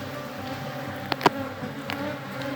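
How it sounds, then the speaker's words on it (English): Honey bees buzz steadily around a queen cage inside a hive, a dense continuous insect hum close by with a couple of brief sharper knocks or clicks partway through. "you see all the bees are buzzing around it"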